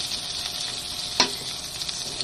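Tomato, garlic and onion sauté in a pan with a steady bright sizzle, broken by one sharp stirring clack midway.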